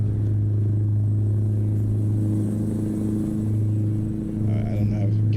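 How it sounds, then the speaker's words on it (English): A truck engine in Euro Truck Simulator 2, driving in Norway, rumbles steadily and loudly as a deep continuous drone, with someone talking faintly over it. "sometimes I'm just listening to the engine"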